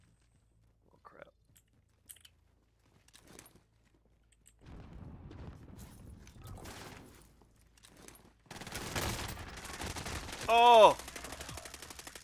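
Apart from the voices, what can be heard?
gunfire in Call of Duty video game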